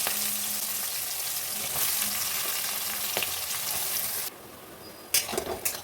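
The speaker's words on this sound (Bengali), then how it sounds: "এবার পেঁয়াজগুলো দিয়ে দেবো" Onions sizzle and crackle as they drop into hot oil in a wok already tempered with a dried bay leaf and whole garam masala. The steady frying hiss drops away near the end, followed by a few stirring clinks.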